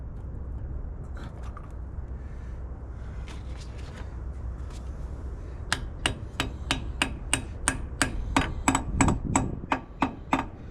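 A dead blow hammer strikes heavy metal parts on a 1940 rat rod, about a dozen sharp, evenly spaced blows that quicken slightly toward the end, loud and close over a low background hum.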